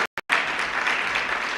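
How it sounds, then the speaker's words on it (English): An audience bursts into sustained applause at a press conference for the completion of an early learning center, steady dense clapping that follows a brief gap of silence and holds at an even level to the end. "let's give a round of applause to the most patient and well-behaved kiddos"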